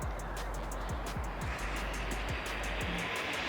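A 4S RC basher car runs at full throttle, giving a steady loud high-pitched motor whine over broadband rushing noise, with a few short low thumps from bumps across the ground.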